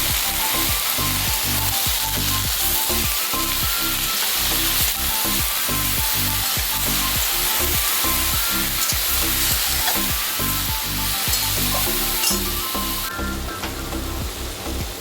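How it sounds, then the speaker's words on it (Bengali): Mustard and green chillies sizzling and crackling in a hot pan, a dense, close, continuous frying hiss with rapid spattering pops throughout. "সরষে, কাঁচা লঙ্কা, দিলাম"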